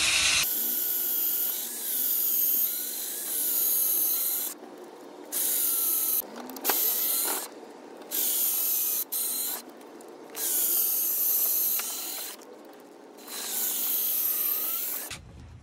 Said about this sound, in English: start drilling.